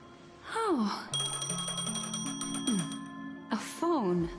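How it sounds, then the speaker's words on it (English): A ringing phone in the video game Honkai: Star Rail, heard as a repeated electronic bell-like chime that sounds close and fairly loud for several seconds, with a synthesized melodic tone at the start and end. "A phone."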